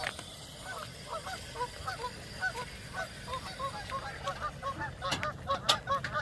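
A flock of waterfowl honks and quacks repeatedly, a chorus of overlapping calls at moderate distance over a low outdoor rumble.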